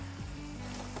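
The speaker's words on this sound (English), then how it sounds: "We'll now add in the soya chunks that we have fried. They're nice and crispy." Fried, crispy soya chunks sizzle steadily as they drop into a hot Manchurian sauce in a pan, a brief, close, continuous frying hiss with no talking.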